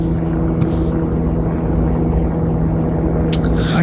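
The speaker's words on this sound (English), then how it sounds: "I can hear a helicopter." A distant helicopter gives off a steady, low, droning hum that holds without change under an even background of outdoor noise.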